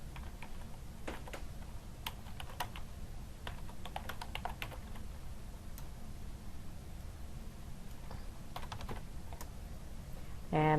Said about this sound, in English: I'm going to type in my new address.